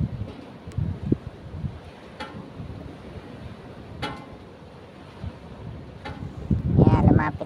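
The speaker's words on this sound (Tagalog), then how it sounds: "Medyo malakas nga lang ang hangin." Strong, steady wind buffeting the microphone outdoors on a fishing outing by the water in New Zealand, a continuous roar with gusts swelling louder near the end, alone without speech.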